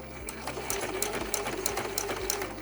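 A sewing machine stitches around the top edge of a tote bag with a 1/8-inch seam allowance, giving a close, steady, rapid mechanical whir with evenly pulsing needle strokes.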